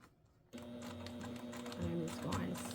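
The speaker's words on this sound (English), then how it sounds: "I just wanted to show you how easy it was to do on the sewing machine" A sewing machine starts up and runs steadily close by, stitching fabric for a tissue holder, a fast mechanical whirring stitch that continues without pause.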